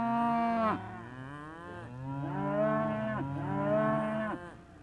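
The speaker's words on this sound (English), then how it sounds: "Yes, a herd of cows." Cows in a herd moo in long drawn-out bellows that overlap, rising and falling in pitch. The lowing sounds fairly close, with several animals calling one after another and no talking.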